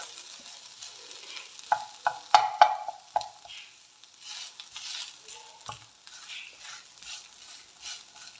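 A masala mixture with a teaspoon of garam masala stirred in a pan, with a few sharp spoon knocks against the metal early on and quieter scraping and faint sizzle afterward.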